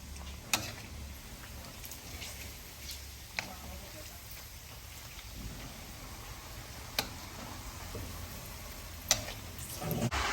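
Pork rind chicharon fries in a deep layer of oil with a constant, close sizzle and crackle. Occasional sharp ticks and pops break through the bubbling.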